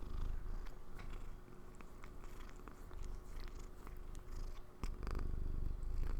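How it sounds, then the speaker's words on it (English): Smudge, a domestic cat, purring close up in a continuous low rumbling drone with a steady rhythm, plus brief rustles and soft clicks over it. "and he is purring"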